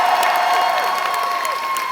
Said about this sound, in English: Let's give a big round of applause to Camera Guy.